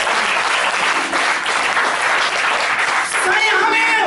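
Church congregation clapping loudly and continuously during a sermon, a dense steady roar of applause with voices faintly mixed in and rising near the end.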